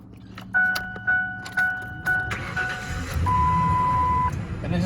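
A 2000 model-year car is started with its key after a few sharp chime beeps and key clicks; the starter cranks briefly and the engine catches into a steady low idle rumble that continues to the end.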